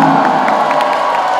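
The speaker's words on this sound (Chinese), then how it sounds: "掌声让我们欢迎 Tribal Crew" A crowd at a national dance showcase applauds and cheers as a dance crew is welcomed on stage, a loud, dense and sustained roar of clapping and shouts.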